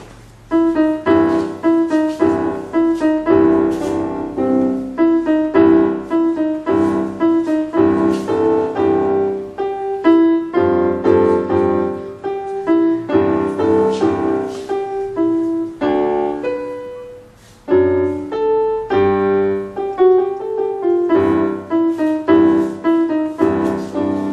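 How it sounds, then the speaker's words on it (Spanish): A piano plays a lively melody with chords for a long stretch, with clear repeated phrases, close and unaccompanied by voices. "Y el piano suena así."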